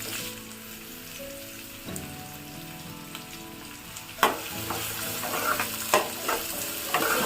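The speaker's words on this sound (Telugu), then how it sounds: "ఉల్లిపాయ ముక్కలు, పచ్చిమిర్చి ముక్కలు బాగా వేగిపోయినాయండి" Onion and green chilli pieces fry in oil in a kadai with a continuous sizzle, broken by sharp scraping stirs that grow louder and more frequent toward the end. No one speaks.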